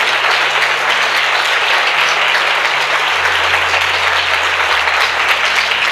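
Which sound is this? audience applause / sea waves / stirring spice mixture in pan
audience applause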